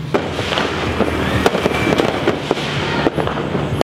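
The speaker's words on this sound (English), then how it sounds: "Fireworks is already starting to go in the air." New Year's Eve fireworks popping and crackling continuously, with sharp bangs scattered through a dense, rumbling backdrop of bursts at middle distance.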